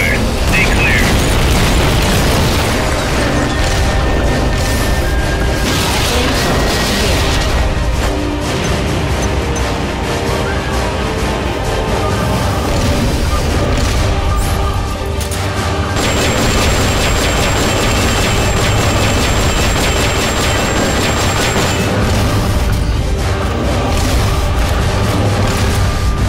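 Supporting fire explosions in Metal Gear Solid Peace Walker: loud, continuous barrage of booms and rumbling blasts with mechanical whirring, filling the whole stretch amid game sound effects, with occasional radio-style voices.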